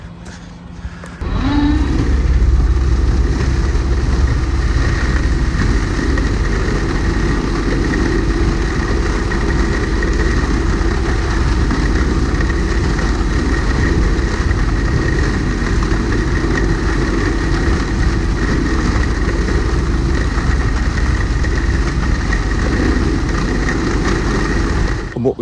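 A potato haulm topper runs behind a tractor in a field, giving a loud, steady, close mechanical drone with a deep rumble that holds unbroken for the whole stretch.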